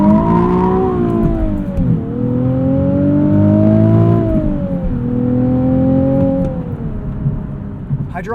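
A 2020 Nissan 370Z Nismo with a 6-speed manual drones loudly from inside the cabin while driving, its engine note rising and falling steadily through gear changes over several seconds.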